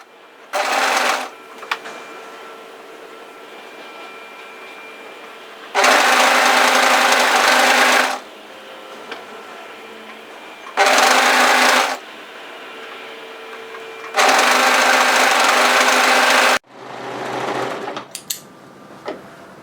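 Domestic sewing machine stitching a contrast insert panel onto a longline hoodie, running in four separate bursts of steady whirring, two short and two longer, with quiet pauses between and some fabric handling at the end.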